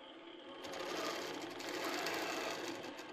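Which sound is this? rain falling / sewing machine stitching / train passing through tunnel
sewing machine stitching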